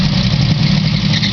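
A G-body Oldsmobile Cutlass V8 with a four-barrel carburetor, thought to be faulty, running roughly at close range, a loud, steady, uneven low rumble with no talking.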